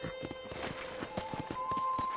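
Horse hooves clip-clop in a steady trotting rhythm in the Red Dead Redemption video game, with a short neigh mixed in and a sustained tone running underneath, at moderate loudness throughout.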